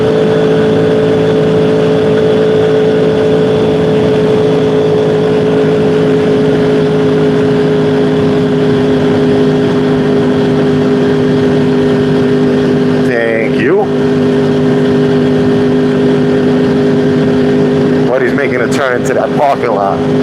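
A motorcycle ridden fast on the road gives a loud, steady engine drone with wind rush throughout, broken by a couple of brief rattling bursts near the middle and end.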